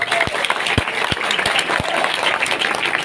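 A crowd applauds loudly after a speech by a regent at a boxing camp event, dense steady clapping with a few sharper claps standing out, lasting a few seconds.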